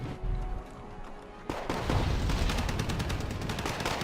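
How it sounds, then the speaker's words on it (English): Heavy 155mm artillery from a French Caesar self-propelled gun in Wargame Red Dragon, heard as a dense, sustained run of rapid booms and blasts after a quieter stretch, loud and continuous with no talking. "That's artillery fire, isn't it? Yeah, that's artillery."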